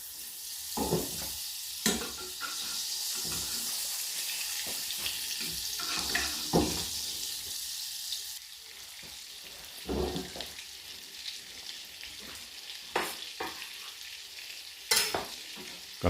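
Oil and butter sizzling in a hot pan, a steady close hiss broken by sharp clatters and bursts of stirring and spattering, with a quieter stretch in the second half.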